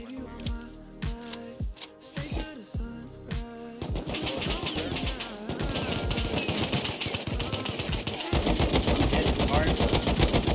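Bursts of AK rifle fire ring out in a survival video game on a contested vanilla server, scattered shots first, then rapid sustained automatic volleys growing louder and denser.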